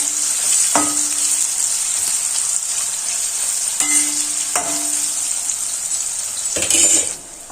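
Curry leaves and chopped pointed gourd hit hot oil in a pan, giving a loud, continuous sizzle with brief bursts and clatters as they are added and stirred.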